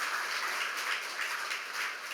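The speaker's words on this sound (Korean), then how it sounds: "여러분 축하의 박수, 환영의 박수 해주시겠습니다" Steady applause from a church congregation welcoming and congratulating family members during a Sunday service, a soft, even wash of many hands clapping at a distance with no voices over it.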